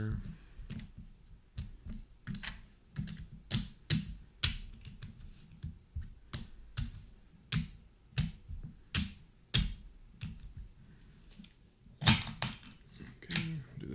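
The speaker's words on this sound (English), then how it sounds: "we'll shuffle up chips. Mix them around a little bit, just kind of stack them up in a random order" Plastic game chips for a tabletop board game click and clatter as they are shuffled and stacked, a series of sharp, close taps in irregular bursts over about fourteen seconds.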